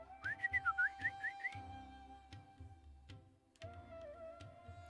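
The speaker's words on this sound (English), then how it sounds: "immaculate whistling." A person whistles a bouncy tune in short melodic phrases near the start, followed by quieter ticking and clinking sounds with no voice present.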